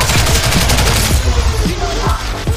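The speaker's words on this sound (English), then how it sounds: "Liam, you can shoot him." Rapid bursts of gunfire from the online shooter Ghost in the Shell: First Assault, dense repeated shots and a fusillade close and loud throughout.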